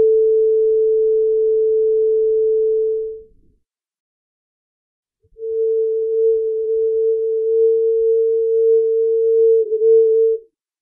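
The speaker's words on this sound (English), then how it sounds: "all harmonics filtered out, leaving only the fundamental" Pure A440 fundamental with all harmonics filtered out, heard as two smooth sine-like tones in turn: a clean steady hum for about three seconds, a short silence, then a second similar tone for about five seconds.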